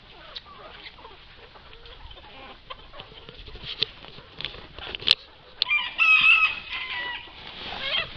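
Chickens on a farm clucking in short scattered calls, with a louder crow rising near the end, close and fairly clear with rustling and light background noise.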